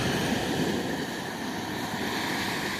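Sea waves wash steadily onto a shore in winter with icicles nearby, a constant loud broadband surf roar with wind rumble, with no talking.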